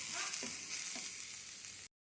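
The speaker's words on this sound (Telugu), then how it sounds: "మెంతం కూర వేసి బాగా ఫ్రై కావాలి" Fenugreek leaves frying with ginger, garlic and turmeric in a pan, a bright, even hiss of sizzling oil with a couple of faint stirring knocks, cutting off abruptly after about two seconds.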